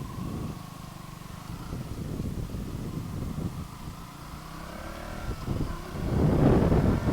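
Motorcycle ridden fast along a road, a moderate, steady engine drone mixed with wind rush that swells louder near the end, with no speech.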